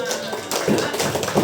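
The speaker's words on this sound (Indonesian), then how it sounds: "Tepuk tangan dong kita semua." A class of students claps hands together in a short burst of quick, overlapping claps, close and fairly loud, with some voices mixed in.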